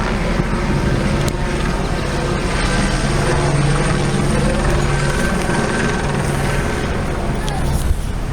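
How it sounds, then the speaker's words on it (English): Helicopters pass overhead outdoors in Washington DC, a heavy continuous rotor and engine rumble that stays loud and steady the whole time, with faint background activity. "There are more of our helicopters flying over."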